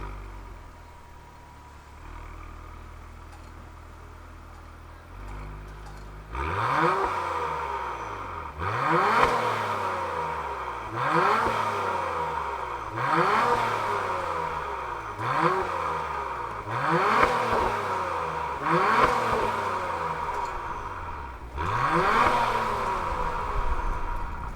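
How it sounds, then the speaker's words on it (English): 2021 Acura TLX Type S with a 3.3-liter twin-turbo V6 starting up, then revved repeatedly in a steady series of about seven loud rising and falling throttle blips, heard from close by. "why don't we fire this one up and hear what it sounds like?"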